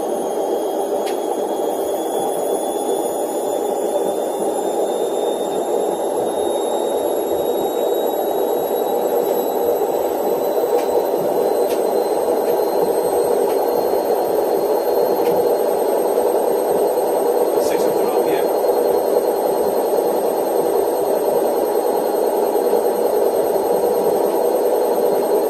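Washing machine on a 600 RPM spin cycle, shaking slightly, giving a steady, continuous loud whirring drone with a constant hum and faint high whine, no talk.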